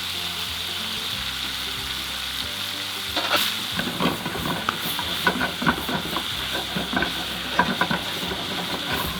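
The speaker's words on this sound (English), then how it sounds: "So they're cooking there in the pork fat." Spring greens fry in pork fat in a pan, sizzling steadily. A loud hiss and stirring clatter start a few seconds in and continue with scraping and crackling throughout.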